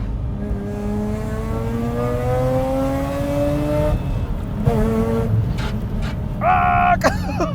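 A bridge-ported Mazda RX-8 on semi-slick tyres revs loudly and rises through the gears, with a tyre rubbing against the body and engine pitch sweeping up and dropping, close and aggressive.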